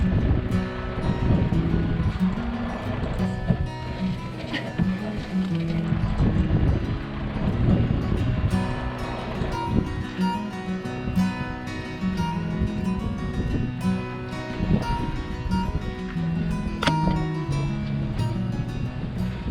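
A sailboat runs downwind wing on wing at about 4 knots, with water sloshing against the hull, wind buffeting and creaks of rigging, close and continuous without speech.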